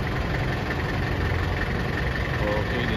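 An Isuzu 4JG2 engine truck idles close by in a Cebu yard, a steady low rumble with a constant mechanical hum that holds evenly for the whole stretch.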